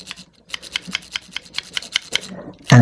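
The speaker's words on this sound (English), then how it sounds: "You're just doing a nice little scrubbing motion forward and backwards." Lock pick scrubbing back and forth over pin tumblers inside a lock, giving a steady run of small close scratchy clicks, followed by a louder rustle at the end.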